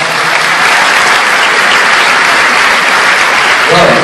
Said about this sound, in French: je veux qu'on applaudisse toutes les femmes qui sont là ce soir